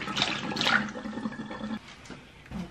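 Water runs steadily while a wig is washed, a close splashing gush from a tap that fluctuates with handling and eases slightly toward the end.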